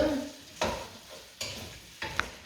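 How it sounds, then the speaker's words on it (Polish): Onion, potatoes and beans fry in a pan with a soft sizzle, broken by three distinct scraping stirs of a utensil at regular intervals. "wszystkie te składniki czyli cebula, ziemniaki, fasola e, się będą smażyły"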